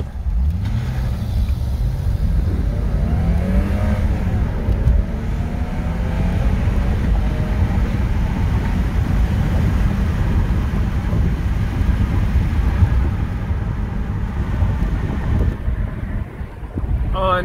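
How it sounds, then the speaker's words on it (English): A Lexus GS 350 hums along at steady speed, its smooth engine note low under heavy wind and road noise, with faint talk in the cabin. "Unbelievable how smooth this car runs."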